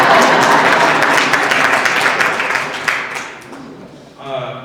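Audience applause in a hall during a Buffalo commemoration, steady dense clapping that fades out over about four seconds before a voice begins speaking.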